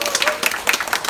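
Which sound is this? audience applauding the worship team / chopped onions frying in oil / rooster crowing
audience applauding the worship team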